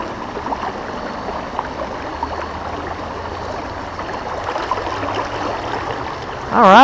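Steady broadband rush of the Raritan River's current flowing near a fisherman, a continuous watery wash with no voices, ending in a brief louder burst.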